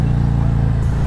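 Loud, close engine rumble from a motorcycle fitted with an RBW skull exhaust, a deep pulsing throb held steadily through a short burst.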